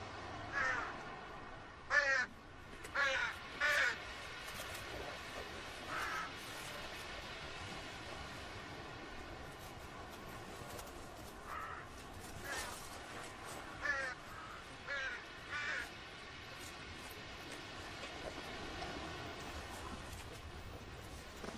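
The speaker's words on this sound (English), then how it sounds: "Heckling crows call unwanted attention." Heckling crows caw in daylight in short, spaced bursts of harsh calls at moderate distance over a low, steady outdoor background.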